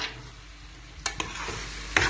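Onions and tomatoes stirred in a frying pan, a steady soft sizzle with a few brief scraping stir sounds near the end, close and moderately quiet with no talking.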